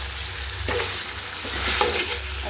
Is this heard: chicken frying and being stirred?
yes